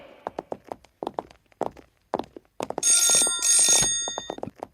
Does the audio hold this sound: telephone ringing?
yes